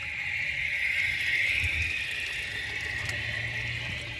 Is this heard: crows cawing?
no